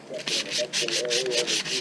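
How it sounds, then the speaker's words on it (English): Sanding on wood for a homemade dockside crappie habitat, heard as close, steady back-and-forth rubbing strokes in a quick repeated rhythm with short pauses between passes. "we got the sanding done"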